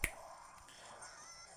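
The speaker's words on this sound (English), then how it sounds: "I was actually snapping my fingers instead of holding the shield button" A single sharp finger snap right at the start, close and crisp, followed by quiet room tone with faint game audio in the background.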